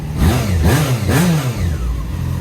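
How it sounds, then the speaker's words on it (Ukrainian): A four-cylinder Yamaha Fazer motorcycle engine revs up hard three times in quick succession, the roar rising and falling close by before settling into idle. "Оцей звук двигуна чотирьохциліндрового. І оцей вихлоп."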